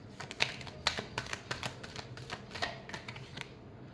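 Tarot cards are shuffled in a quick run of crisp, irregular riffling clicks and slaps, close and fairly quiet, with no talking.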